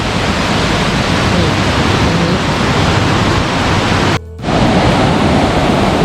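Khlong Lan waterfall roars close by as a loud, dense, steady rush of falling water, broken only by a brief dropout near the end.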